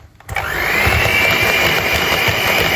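An electric mixer whisks cake batter sweetened with agave syrup, starting abruptly and holding a loud, steady whirring hum with a high whine throughout.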